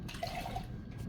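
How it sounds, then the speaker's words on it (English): Water is poured into a cooking pot of green gungo soup with sliced snapper fish, giving a short, close splashing trickle. "Add some water to here."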